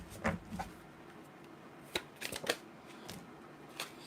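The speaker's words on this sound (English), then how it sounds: "Get one more shuffle in." Tarot cards being shuffled by hand, heard as a few soft, papery riffling bursts spread over four seconds, quiet and close with no speech.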